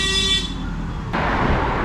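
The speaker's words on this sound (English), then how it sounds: "look how many people be honking, driving crazy" Car horn sounding in busy city traffic in Willemstad, Curaçao, a loud sustained toot over rumbling road noise that cuts off abruptly into broadband traffic hiss.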